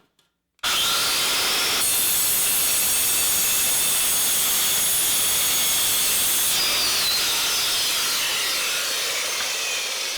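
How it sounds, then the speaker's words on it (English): A saw fitted with a metal-cutting blade slices through thin sheet metal such as roofing, a loud, continuous, piercing, high-pitched screech that starts suddenly and holds for nearly ten seconds, close by and without talk. "you should be able to cut thin sheet metal"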